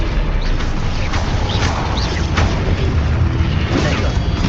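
Booming spell blasts and bursts from Hogwarts Legacy combat, including the Confringo fire spell, sound as a dense, loud, continuous wash of explosive impacts with scattered pops and crashes.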